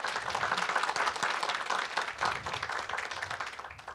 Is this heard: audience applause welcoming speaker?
yes